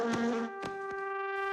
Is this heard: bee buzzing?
yes